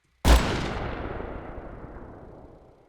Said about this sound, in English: So here's the carbine AVS 36 shot.